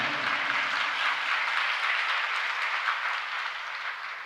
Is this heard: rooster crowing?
no